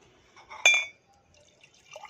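A drink is poured into a cup in one short, quick splash with a faint glassy clink, then near silence.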